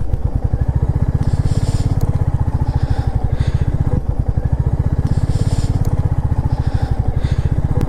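Motorcycle ridden off-road on loose dust and dirt in hot weather during a long solo ride, its engine a loud, close, steady rapid thrum that swells and eases slightly throughout.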